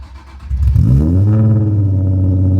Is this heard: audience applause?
no